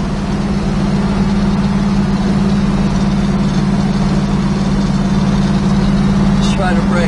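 A 1970 Plymouth Cuda AAR cruises down the road, its V8 engine a steady low rumble heard from inside the car, loud and constant throughout.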